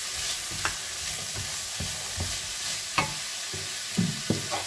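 Carrots frying in a hot pan, a constant sizzle with repeated rhythmic clacks and scrapes of a utensil stirring them, close and loud, no voices.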